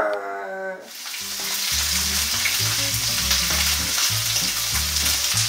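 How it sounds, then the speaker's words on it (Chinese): Chicken pieces, skin side down, sear and sizzle loudly in a hot pan for oyakodon, a strong continuous frying hiss with scattered pops and stirring, and no talking. "记得皮先下，因为要让皮煎的恰恰"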